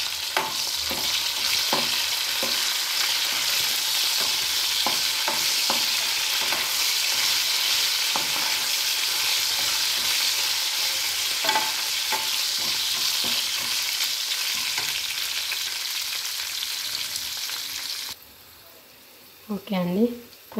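Curry leaves and dried red chillies fry in hot oil, a loud, steady sizzle holding for about eighteen seconds with occasional stirring clinks, then dropping away near the end as a brief voice is heard.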